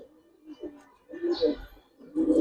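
Giribaz pigeons coo nearby in soft, throaty rolling phrases, several repeated calls rising and falling with short pauses between them.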